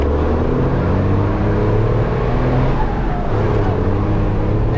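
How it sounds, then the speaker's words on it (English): A bus without air conditioning rolling along a bumpy road out of San Matias, Bolivia, with a continuous loud engine drone and road rumble close by and no pauses. "We are in the bus."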